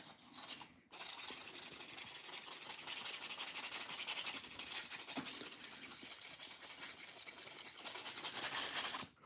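Sandpaper rubbing steadily against an already smooth, finished lock, a close, continuous dry scratching hiss with a brief pause near the start and no talking.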